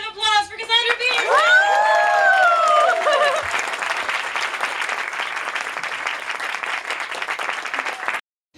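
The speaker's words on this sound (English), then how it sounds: "big round of applause for Cassandra Peterson" An indoor audience at a Barnes & Noble book signing in New York City for Cassandra Peterson bursts into loud, sustained clapping and whooping, starting with raised voices and a cheer and carrying on for several seconds before stopping abruptly.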